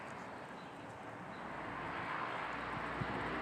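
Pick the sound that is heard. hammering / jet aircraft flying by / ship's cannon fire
jet aircraft flying by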